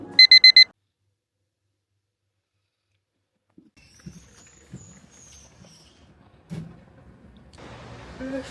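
A digital alarm clock beeps in a quick burst of four loud electronic tones, then silence, followed by faint rustling and soft shuffling sounds.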